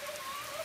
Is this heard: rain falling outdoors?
yes